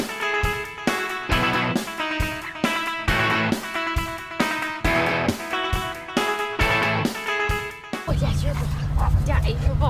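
A dog, likely a Labrador, barks repeatedly in sharp, loud bursts at an animal shelter, a rapid steady series of close barks followed by a stretch of whining and echoing kennel noise.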